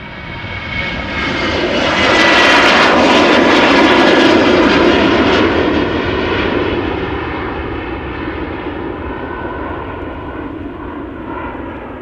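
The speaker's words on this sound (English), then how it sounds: "this is KLM flight 1477, Boeing 737-800 going to Glasgow in Scotland." A KLM Boeing 737-800 jet departs Amsterdam Schiphol bound for Glasgow. Its engines roar loud and close, peaking early and then slowly fading as it passes.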